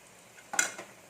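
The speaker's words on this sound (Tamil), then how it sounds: "வெங்காயம் நல்லா வதங்கட்டும்" Onions sautéing in a pan for Tamil samba wheat rava upma, a brief burst of stirring and sizzle rising in the middle of an otherwise quiet stretch.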